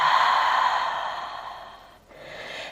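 A long, deep exhale during a full-body yoga flow, a steady breathy rush that fades gradually over about two seconds, then a short quiet gap before a softer breath begins.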